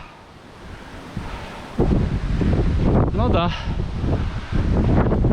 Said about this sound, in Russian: ветер хорошо помогает нам бросать